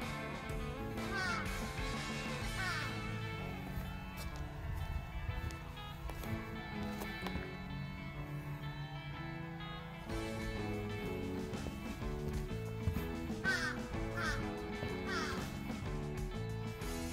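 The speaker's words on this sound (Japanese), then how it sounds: "カラスだけはうるさいですけどね。" A few distant crow caws come through faintly, scattered over a busy, continuous background at an iris garden in Isesaki, Gunma, Japan.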